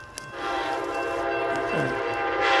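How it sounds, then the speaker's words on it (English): An Amtrak passenger train rolls past with a loud, sustained multi-tone horn blast, rumbling rail noise underneath throughout. "No, it's Amtrak."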